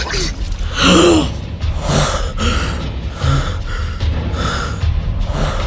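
A man gasps for air repeatedly, ragged heavy breaths with groaning sighs, close and strained, in a rhythmic series of desperate inhalations.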